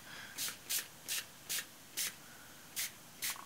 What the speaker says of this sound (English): And let's spray and see.